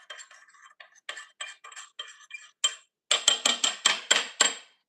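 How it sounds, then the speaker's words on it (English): A teaspoon taps and clinks against dishes while dipping sauce is served: a string of light, close metallic chinks that grows louder and more ringing toward the end. "And then I'll just use this teaspoon"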